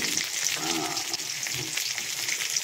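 Steady crackling sizzle of fish frying in hot oil in a wok over low heat, a continuous close hiss with small pops and no voices.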